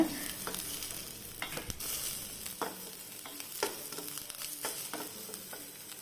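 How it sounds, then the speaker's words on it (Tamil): Finely chopped onion and green chilli sauté in a pan for a drumstick-flower egg stir-fry, giving a steady frying sizzle broken by regular scraping stirs, close and moderately loud, with no talking. "இப்போ இது எல்லாத்தையும் நல்லா ப்ரௌனிஷாக வரந்தினி ஒரு நல்லா வண வணக்கிக்கோங்க"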